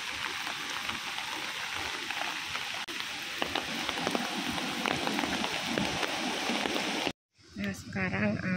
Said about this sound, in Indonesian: Nah, di sini hujan, teman-teman.